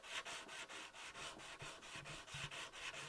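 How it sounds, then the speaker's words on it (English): Close, rhythmic rasping strokes of hand sanding a forged Damascus knife blade with 240 grit, repeating back and forth about three times a second at a steady pace. "sanding away on the knife"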